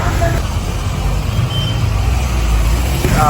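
Congested road traffic of trucks, buses and cars during a flood evacuation in Wellampitiya, a steady engine rumble and road noise close by, with a voice speaking over it.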